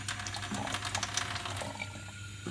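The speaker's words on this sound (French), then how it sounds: "on va faire couler l'eau" Tap water runs steadily into a shisha base for about two seconds, a continuous splashing fill with a slight change in tone near the end.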